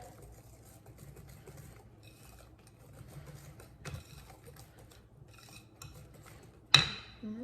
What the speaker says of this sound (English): we're gonna whisk it in. I'll add that flour on there